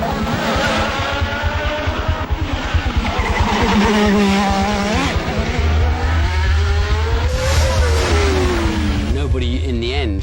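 Ayrton Senna's day-glow McLaren racing through Monaco on a 1988 pole lap, its engine screaming and revving hard up and down through the gears close by, with a voice talking over it.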